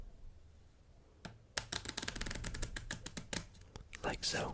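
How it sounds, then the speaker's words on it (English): Rapid riffling and flicking of playing cards being shuffled, close up, in dense crackling bursts, with a brief spoken remark at the start. "take the cards and we're going to just shuffle them"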